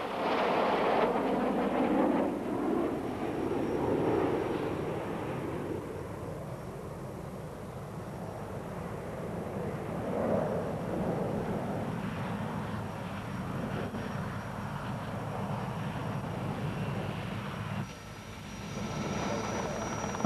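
Red Arrows jet aircraft fly their display at the Biggin Hill airshow in 1993, a distant swelling roar of jet engines that rises, fades and builds again across the open airfield.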